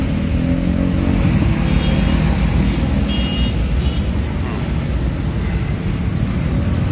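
Roadside traffic jam noise with cars and buses queued near a busy fuel station, a dense steady rumble of idling and creeping engines with a faint hiss like air brakes, close and continuous.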